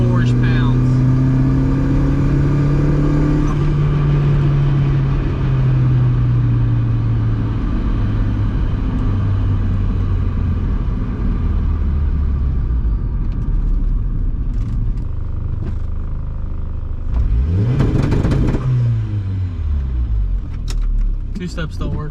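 A VW MK3 fitted with a swapped 1.8T engine, with third gear damaged, drones loudly from inside the car under full throttle. Its pitch climbs and falls, ending in a sharp rev sweep, with some voices mixed in.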